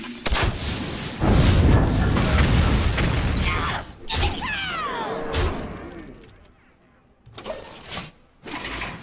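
A loud booming burst from an Explosive Shot spell in the card game Hearthstone, with a rumbling roll and crackling tail followed by lighter game effects and a few shorter thuds.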